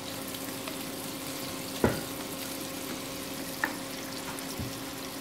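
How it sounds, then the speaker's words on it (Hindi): Chopped onions frying in a pan until golden brown, giving a steady close sizzle with a few sharp pops and spatter clicks over a low hum. "अच्छे गोल्डन ब्राउन होने तक इसे थोड़ा फ्राई होने देंगे"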